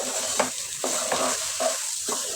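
Rice frying in oil with ginger and garlic paste for khichuri, with a continuous sizzle and regular scraping stirs of a spoon against the pot, close and steady, with no talk.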